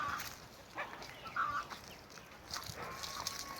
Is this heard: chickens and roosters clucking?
yes